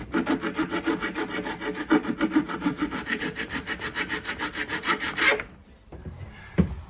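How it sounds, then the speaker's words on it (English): Hand file rasping back a weld on steel during a narrowboat fit-out, steady rapid rhythmic strokes close up for over five seconds, then stopping into near quiet with one small knock. "So I'm just going to use a file."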